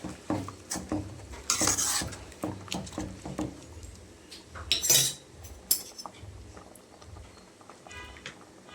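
A spoon stirs red-stalk amaranth greens kootu in a pan, with repeated scraping, clinking strokes against the metal in an uneven rhythm, close and fairly quiet, with no talking.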